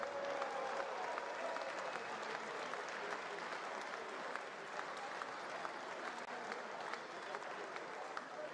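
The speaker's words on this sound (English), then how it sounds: "Let's put those hands together one more time" An audience at an evening session of a London pro jump rope tour event applauds, with dense, steady clapping and crowd noise that stays loud and even from start to finish.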